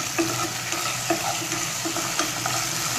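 About a quarter kilo of washed okra frying in oil in a pan, giving a steady close sizzle with a few soft stirring knocks scattered through it and no voices.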